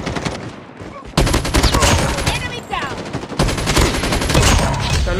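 Rapid bursts of automatic gunfire from a gun in the shooter game Call of Duty, loud and dense, in two long volleys separated by a brief lull, with a voice talking faintly underneath.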